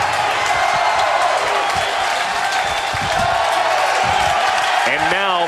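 Baseball stadium crowd at an LSU versus UC Irvine game, a steady loud wash of many voices and murmuring throughout, with a brief rising whistle or shout near the end.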